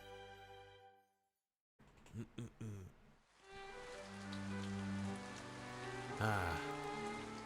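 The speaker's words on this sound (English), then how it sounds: "It was rainy." Steady rain falls in a scene from the visual novel game Kinkoi, a continuous soft patter that runs under light game music and brief voiced speech.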